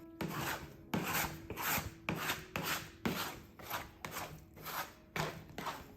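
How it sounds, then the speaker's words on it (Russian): A dough scraper works dough on a table, a rhythmic rasping scrape repeating roughly once a second, close and fairly loud, with short pauses between strokes and no talking. "И скребком помогаю."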